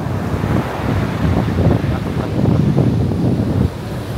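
Sea surf at Teluk Cempedak beach washes steadily onto the sand under strong wind noise, a continuous broadband rush with rolling surges and no talking.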